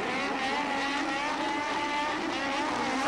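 Formula 1 cars of 1987 restarting the Portuguese Grand Prix make a loud, continuous engine roar that holds steady and fills the whole span with no break.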